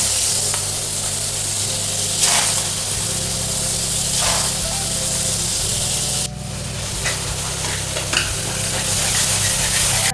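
Prawns sizzle in hot oil in a pan with a pinch of salt, a loud steady hiss broken by regular scraping strokes of a spoon stirring them around, close up with no talking.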